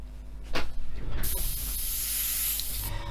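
An airbrush sprays thinned paint onto an Airfix 1/24 F6F-5 Hellcat model kit, a short puff and then a steady, close, continuous hiss held for about two seconds before cutting off.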